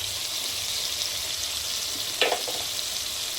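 Ground coriander, cumin, Kashmiri chili and turmeric fry in hot oil with a steady, soft sizzle throughout, and a brief clink of a utensil partway through.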